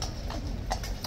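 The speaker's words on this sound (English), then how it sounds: "Horses will come slightly forward for that dismount." Police horses' hooves clip-clop on the parade ground at Horse Guards, a few soft, fairly distant steps in a short stretch.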